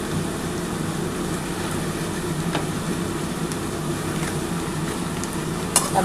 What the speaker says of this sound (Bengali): এবার আমি এর মধ্যে আলুটা দিয়ে দিচ্ছি।